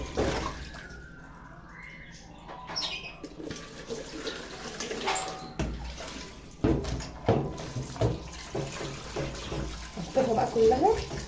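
Tap water running and splashing in a kitchen sink while soaked food is rinsed, uneven and close, with a voice talking over it.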